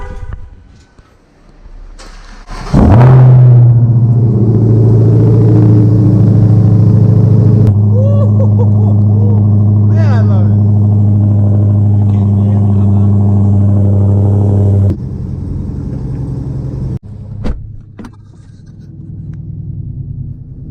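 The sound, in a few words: 2018 widebody Dodge Hellcat engine cold start roar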